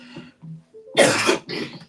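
A woman gives a quick throat-clearing rasp, then two harsh, loud coughs, the first longer and the second shorter, during a winter bout of asthma.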